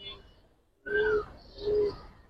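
Giribaz and coloured pigeons give two soft, close coos, each under a second, against quiet background hiss.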